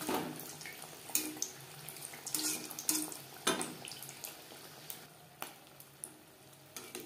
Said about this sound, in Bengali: উল্টে পাল্টে ক্রিস্পি করে ভাজা হয়ে গেছে